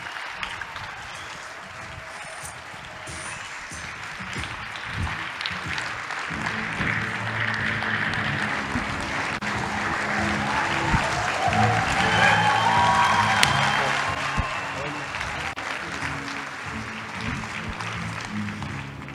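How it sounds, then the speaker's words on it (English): An audience applauds a rugby captain walking onto a stage, sustained clapping from a large crowd that swells gradually toward the middle and then eases off. "Won't you give our captain a big round of applause?"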